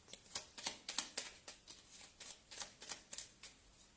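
Tarot cards are shuffled close up in quick, rhythmic riffling bursts, each flutter following the last at an even pace.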